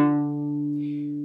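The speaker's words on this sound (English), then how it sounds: "here's what it sounds like without a slide" A single sustained cello note, an F played without a slide, rings steadily at one pitch with a rich harmonic tone, close and clear, fading slightly over about a second.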